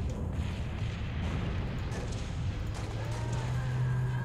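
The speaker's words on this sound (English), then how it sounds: "Throw a grenade." A grenade detonates in the Halo Reach video game, heard as a low, rumbling blast within dense, continuous battle noise, with a voice talking over the action.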